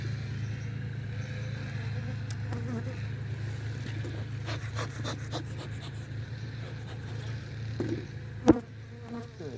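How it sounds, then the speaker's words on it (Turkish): Honeybees buzzing at an opened hive during a winter inspection, a steady low hum throughout with faint handling clicks and a single louder knock near the end. "Evet arılarımız sakin sakin çalışıyor."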